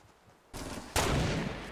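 Gunfire in the video game Fortnite comes in two sudden loud bursts after a quiet moment, the second sharper and harder than the first, with noisy crackling decay.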